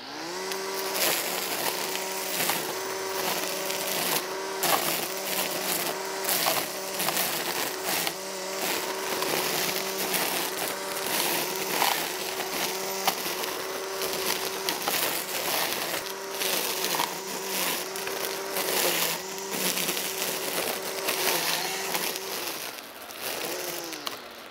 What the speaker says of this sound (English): the string trimmer noise is terrible